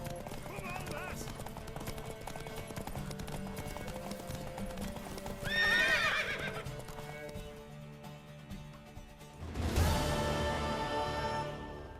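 A horse in The Witcher 3 video game whinnies loudly twice over galloping hoofbeats and background music, with voices speaking between the neighs.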